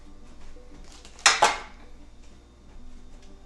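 A metal pan clatters twice in quick succession in a kitchen during Reuben sandwich prep, two sharp bright clanks against a quiet room tone, with no talking.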